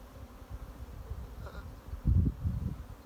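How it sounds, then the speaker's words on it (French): Buckfast honey bees flying around hives on a sunny apiary in Brittany, a low steady buzzing with a couple of louder passes close by, no talking. "Et puis des abeilles qui volent"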